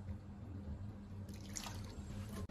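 Water sloshes and trickles as a salted cabbage filling is rinsed in a bowl, a soft, steady liquid swish with a few drips, close and fairly quiet.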